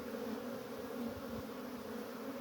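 A hive of honeybees in full activity hums with a continuous dense buzz of many wings close by, unbroken and without speech.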